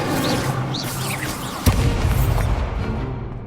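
An Incendio fire spell cast in Hogwarts Legacy, a sharp boom partway through a dense, roaring stretch of continuous game combat noise, loud and close.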